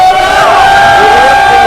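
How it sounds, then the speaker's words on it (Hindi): A loud crowd cheers and shouts for an actress at a Bhojpuri music event, a dense roar of voices and whoops with sustained tones running through it. "जोरदार तालियां और हल्ला एकदम।"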